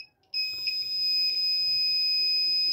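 A homemade anti-theft alarm built with push buttons, a buzzer and a battery sounds off with a sudden, steady, shrill electronic tone that starts abruptly and holds at the same pitch.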